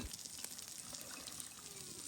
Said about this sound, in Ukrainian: Та виливаю потрібну мені кількість води